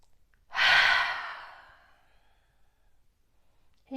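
A single long, deep exhale during a yoga breathing exercise, close and breathy, swelling quickly and fading over about two seconds into quiet.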